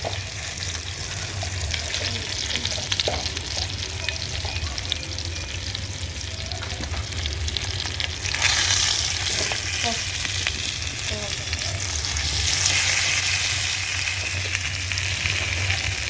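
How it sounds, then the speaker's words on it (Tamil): Home-grown brinjal frying in a pan, a steady broadband sizzle with occasional stirring scrapes, getting louder and brighter partway through, with a low hum underneath and no talking. "நீ நம்ம கத்திரிக்காய் வந்து வானல்ல போட்டுக்கலாம், நல்லா ஃப்ரை பண்ணலாம்"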